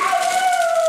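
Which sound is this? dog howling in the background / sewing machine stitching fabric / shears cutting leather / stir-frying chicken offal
dog howling in the background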